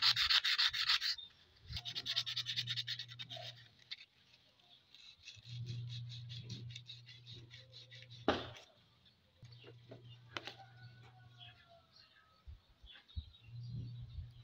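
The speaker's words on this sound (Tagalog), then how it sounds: "kailangan nating lihain konti kasi nangingitim siya kanina, kaya lihain natin" Sandpaper rubs back and forth on a blackened electric fan motor shaft in repeated close scraping strokes separated by short pauses, with a sharper knock partway through.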